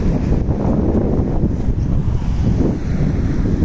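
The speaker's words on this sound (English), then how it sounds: "I'm probably going to hit a bit of a gust of wind coming here." A strong gust of wind buffets the microphone on a walk down Berry Lane in Longridge, Lancashire, giving a loud, continuous low rumble and roar throughout with no talking.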